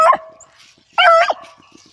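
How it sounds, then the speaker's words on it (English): Hunting beagles give two sharp barks separated by a short pause. The first is a quick yelp and the second a louder, longer bay, both fairly close with faint background noise and no talk. "When they bark, it's strong somewhere."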